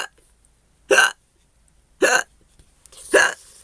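A storybook reader voices three loud, sharp hiccups, spaced about a second apart with silence between them, imitating a character's hiccups.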